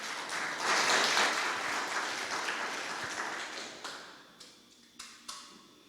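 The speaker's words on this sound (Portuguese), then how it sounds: "Mais aplausos para o Senhor." A church congregation applauds loudly, the dense clapping swelling early, then thinning into a few scattered separate claps as it dies away.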